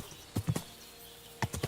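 A horse's hooves clip-clop in Kingdom Come Deliverance 2, two short bursts of three quick strikes each separated by a pause, close and fairly crisp over a quiet backdrop.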